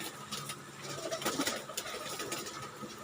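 Domestic pigeons kept for sale at a pigeon club coo softly and repeatedly, with low throaty calls overlapping in a steady murmur from nearby birds, no voices present.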